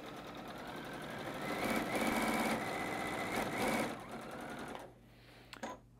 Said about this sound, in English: So just sit back, relax, and do yourself some long stitching all the way back to that starting point, almost.